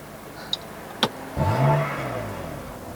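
A BMW F82 M4 Competition starts with a quick whirring crank and then settles into a deep, rising engine rev that holds briefly before easing to a steady idle, heard close after a couple of faint clicks, with no talking.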